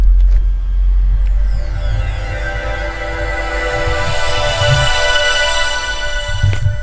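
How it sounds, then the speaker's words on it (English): A soft, layered Windows startup chime from an IBM ThinkPad 380XD laptop swells gradually with sustained shimmering tones over a low hum, fading out near the end. "And of course you do get that absolutely lovely startup noise."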